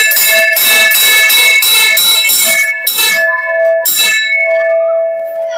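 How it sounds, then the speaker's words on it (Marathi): A handheld school bell rung repeatedly and loudly, fast metallic clangs in quick bursts with short pauses, the ringing tone lingering and fading at the end. "सारखा घंटा वाजव ना, घंटा वाजव ना"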